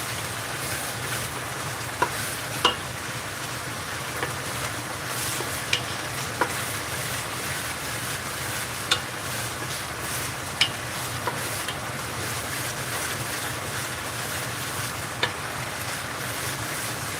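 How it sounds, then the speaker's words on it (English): Steady, continuous sizzling of food frying in a pan for tomato and basil pasta, with occasional clicks and clinks of utensils, no talking. "You can hear it sizzling."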